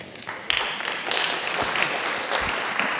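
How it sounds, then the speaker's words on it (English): An audience at a panel discussion on sustainable work applauds, a moderate scattered clapping with a few sharper claps over background room noise, lasting the whole few seconds. "They applaud before you start talking."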